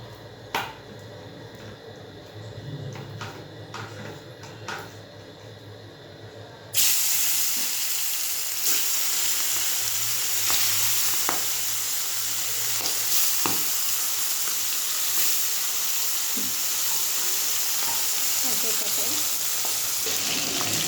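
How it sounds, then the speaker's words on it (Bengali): Fish coated in plenty of turmeric fries in a hot pan, a quieter stretch with light clinks giving way to a sudden loud, continuous sizzle with crackles and pops that holds steady to the end. "এই যে দেখো ভাজা হয়ে গেছে, এবারে তুলে নেবে।"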